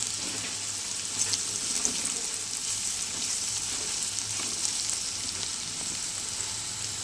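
Potatoes fry in a pan with a steady, dense sizzle and crackle that holds at an even level throughout, close by and with no voices.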